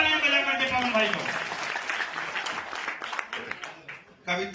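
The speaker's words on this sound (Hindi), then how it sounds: "ये एक बार जोरदार तालियां बजा करके पवन भाई को।" A crowd at a Hindi poetry gathering claps for the poet Pawan, a mid-level wash of applause that runs under someone speaking over it and fades toward the end.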